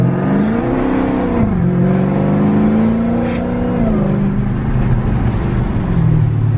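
A car engine revs steadily with a deep exhaust rumble, pitch rising and falling over several seconds, loud and close.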